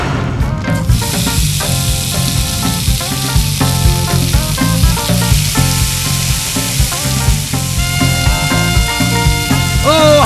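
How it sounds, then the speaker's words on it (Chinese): Slices of descaled snake skin deep-frying in hot oil over high heat, giving a loud, steady sizzle and crackle that runs throughout with busy bubbling texture. "先去掉蛇皮上的鳞片，然后切成一片一片，用大火下去油炸，炸到卷卷焦焦的就可以上桌了。"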